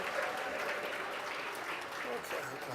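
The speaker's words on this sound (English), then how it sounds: "give yourselves a round of applause for being here" Guests at a sports-themed charity gala for the Arthur Ashe Institute applaud in a steady, soft patter of many hands from a room crowd, faint and diffuse, with voices mixed in.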